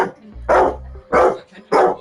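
Kobe the dog lets out three loud, close barks at an even pace, with short silent gaps between them.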